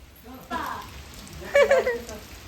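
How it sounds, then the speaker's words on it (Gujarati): Soft, steady rain patters in the background while a voice speaks briefly over it. "હવે વરસાદ ચાલુ પાછો થઈ ગયો છે"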